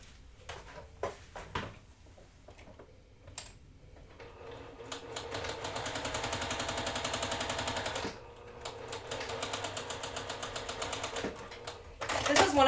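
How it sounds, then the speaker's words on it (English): A sewing machine stitching a quarter-inch seam in quilt fabric: a few short stop-start bursts, then a long steady run of rapid needle rattle, a brief pause, and another sustained run, with clicks at the start and end. "I'm now going to sew down a 1/4 inch."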